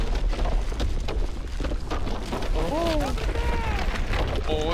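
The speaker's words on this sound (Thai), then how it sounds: "เครื่องปฏิกรณ์ระเบิดแล้ว" A reactor explodes in the video game Call of Duty: Advanced Warfare with a heavy, rumbling blast and a continuing roar. Excited voices talk over the explosion throughout.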